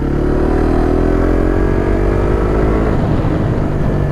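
A Suzuki GSX-S150 motorcycle engine runs loud and steady while riding, holding a droning mid-pitched tone with the pitch rising slightly as it pulls along.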